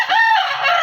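A rooster from a breeding flock gives one loud, close crow with a harmonic rasp that holds for under a second.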